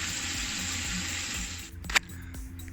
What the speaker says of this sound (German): Das Wasser läuft nach wie vor ab.